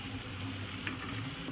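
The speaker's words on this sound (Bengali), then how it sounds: "আঁচটা বাড়িয়ে একটু আর একটু ভাজা ভাজা করে নিচ্ছি আর কি।" Chowmein vegetables with onion and chilli frying in a pan over raised heat give a faint, steady sizzle with a low hum and one small clink, no talk.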